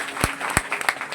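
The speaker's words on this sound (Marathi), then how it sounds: "एकदा जोरदार टाळ्या सर्वांसाठी." A crowd at a harinam saptah devotional gathering in a village claps in applause, with a few distinct loud claps standing out over a steady patter of hands.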